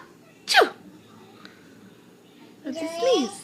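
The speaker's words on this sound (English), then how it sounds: "It's a sneeze. Yeah, it's a sneeze." A baby gives two quick sneezes, a sharp one early and a second longer, breathier one near the end, close and clear with quiet room tone between.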